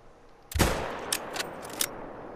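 A single sharp rifle shot fired at an animal in a hunting video game, a loud crack with a booming tail, followed by a few faint clicks and ticks as the echo fades.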